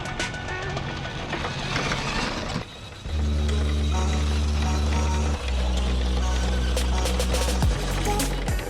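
A lifted custom RC Ford F-250 truck's electric motor whines steadily and loudly while backing a boat trailer into water, holding a sustained drone with a brief dip before rising again, with no talking.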